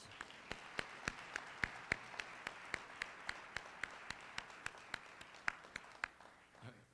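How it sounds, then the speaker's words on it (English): Clapping for an Irish dance school at a lecture on Irish culture, sounding as sharp, regularly spaced single claps in a steady rhythm, moderately close, before fading at the end. "Let's give them another round of applause."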